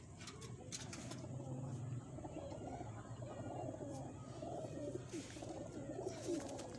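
A young pigeon chick softly cooing while being handled, with repeated low murmuring coos close by and a few faint rustles of handling.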